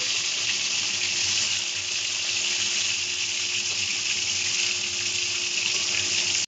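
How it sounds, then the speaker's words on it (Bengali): Rohu fish pieces fry in hot mustard oil over a lowered gas flame, a steady close crackling sizzle filling the whole stretch without a break or any talk. "চলো এবার মাছগুলোকে উল্টে দিই। এক পিঠ ভাজা হয়ে গেছে।"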